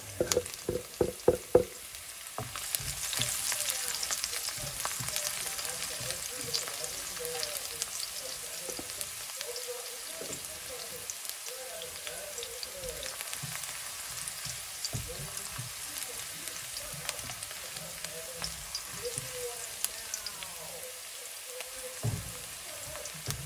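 Minced garlic frying in oil, a steady close crackle and fine sizzle that starts after a few clattering knocks and continues with light popping throughout.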